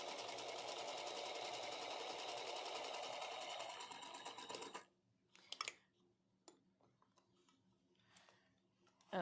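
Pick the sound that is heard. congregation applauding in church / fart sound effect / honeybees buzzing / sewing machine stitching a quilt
sewing machine stitching a quilt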